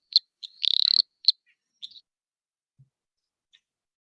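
A frog that sounds like an insect calls in short, sharp, high chirps, with one rapid trilled burst near the start and then sparse isolated clicks against silence.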